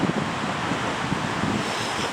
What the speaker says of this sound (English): It's quite breezy today, not particularly cold though.